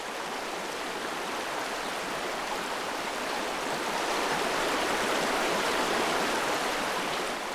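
A winter stream's running water rushes and splashes steadily, a broad close hiss of flowing water that swells slightly toward the end, with no voices.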